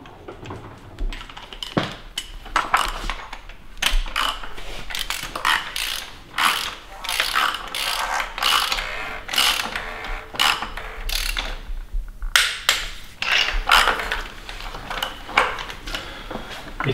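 A torque wrench ratchets while tightening spark plugs on an Audi RS4 B7 V8 engine, giving repeated quick bursts of close, crisp clicking with short pauses between strokes and no speech.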